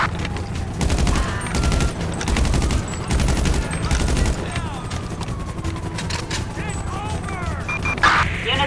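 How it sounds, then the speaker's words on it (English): Gunfire rings out in a video game with rapid bursts of shots, some like a machine gun, then scattered single cracks, all under dispatcher radio chatter and background noise. "Units reporting shots fired at an officer in northern Cypress Flat."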